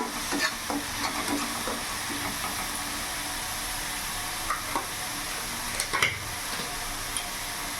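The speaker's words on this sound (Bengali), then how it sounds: "এখানে পেঁয়াজ বাটা টমেটো বাটা একসাথে দিয়ে দিলাম।" Onion and tomato paste frying in oil with nigella seeds for a rohu fish kalia, a steady close sizzle with scattered spatula scrapes and a few louder stirring clicks near the end.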